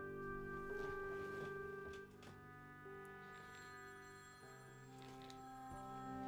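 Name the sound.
telephone ringing, from a video game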